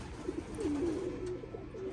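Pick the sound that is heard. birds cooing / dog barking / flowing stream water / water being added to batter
birds cooing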